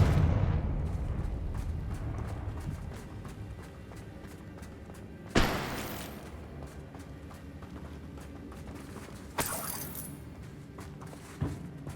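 Confringo blasting spells in Hogwarts Legacy burst as three sharp explosive cracks, one loud at about five seconds and two smaller ones later, over a dense rumbling game soundscape with no talk.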